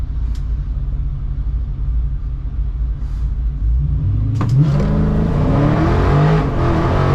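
A drag race car at Orlando Speed World Dragway idles with a deep rumble, then launches into a loud revving roar that climbs through the gears with audible shifts, heard close from inside.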